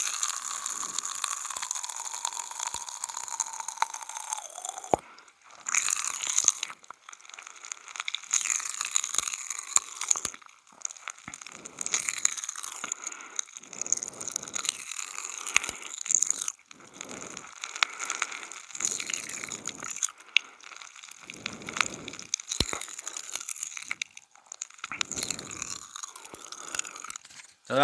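Strawberry Pop Rocks candy crackles and pops in a mouth, a dense irregular fizz of tiny snaps with chewing crunches, close and continuous for almost half a minute with no talking.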